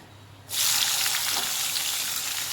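A sudden loud sizzle bursts in as chopped onion hits hot oil with mustard seeds and asafoetida, then settles into a steady crackling fry.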